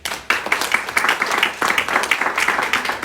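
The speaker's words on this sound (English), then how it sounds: "And a little applause for Hannes as well." An audience at an art and technology talk claps for a presenter, a burst of dense applause that dips briefly and resumes, moderately loud and fairly close.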